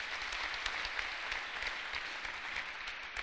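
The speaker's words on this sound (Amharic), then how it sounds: "አጨብጭቡለት ለዚህ ወንድሜ" A church congregation applauding a brother: continuous, even clapping from many hands, moderately distant, with no pause.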